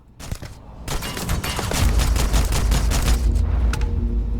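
A loud volley of rapid gunfire in the video game Starfield crackles and booms in quick succession, building into a dense, sustained burst with heavy low rumble.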